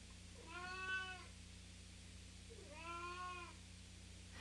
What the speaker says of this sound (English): little Jackie is meowing in the background